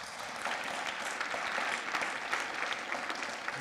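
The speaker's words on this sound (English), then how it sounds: "if we can just give a round of applause to everything that our faculty and staff do" An audience at a spring opening meeting for college faculty and staff gives a round of applause, a soft, even wash of many hands clapping continuously from a distance.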